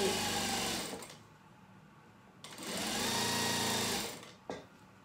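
A sewing machine stitches bias binding onto a duck-bill fabric mask in two loud, steady bursts. A short pause and a brief clunk separate them, and a quick restart follows at the end.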